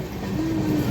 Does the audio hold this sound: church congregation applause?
no